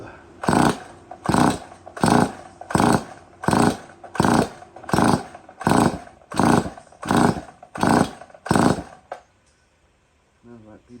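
A neglected Stihl 034 AV chainsaw running with its exhaust removed, revving in about ten loud, evenly spaced bursts, then dropping to a faint idle and stopping.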